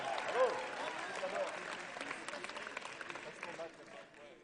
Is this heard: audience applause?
yes